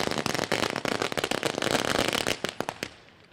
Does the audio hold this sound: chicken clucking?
no